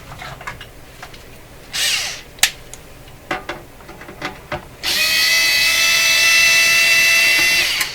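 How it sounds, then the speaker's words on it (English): A power screwdriver takes screws out of the top of a Conar Model 230 signal tracer. There are short whirring bursts and small clicks, then a sustained, loud, high-pitched whir near the end. "So, screws on the top here. Let's get them off."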